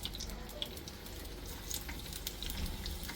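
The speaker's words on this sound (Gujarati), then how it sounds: "થોડી લસણ છમછમ થાય" Chopped garlic dropped into very hot desi ghee sizzles with a steady, close hiss and crackle that holds at an even level throughout, with no voices.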